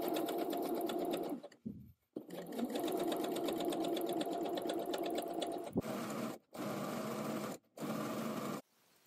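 A sewing machine stitches casing channels in fabric beside a finished seam, running in steady close rapid bursts with brief pauses between runs, no voices present.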